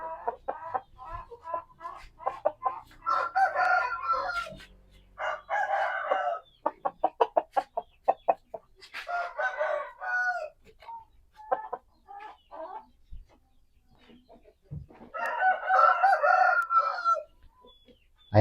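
Chickens being treated for a jaundice-like illness cluck and crow nearby in repeated loud bursts, with rapid clucking runs and longer crowing calls separated by brief pauses.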